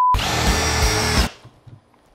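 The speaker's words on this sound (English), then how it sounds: "I had that on hammer drill function." Milwaukee M18 drill running in hammer drill mode, a loud close whine with a rapid hammering rattle for about a second before it stops abruptly, leaving faint clatter.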